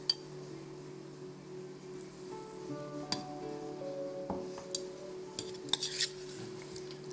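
A spoon stirs paneer tikka marinade made with smoked mustard oil in a bowl, giving soft scraping and occasional light clinks against the rim over a steady background hum.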